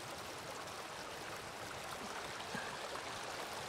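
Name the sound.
flowing water of the Farfa river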